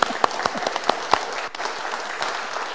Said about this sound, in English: Shall we give him a clap?